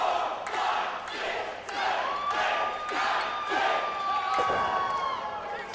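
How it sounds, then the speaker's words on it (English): Wrestling crowd at a match in Robstown chanting a count in unison, a loud sustained roar of many voices with rhythmic swells, a thump near the end. "Great crowd here in Robstown, counting in unison with the challenger, trying to urge him on"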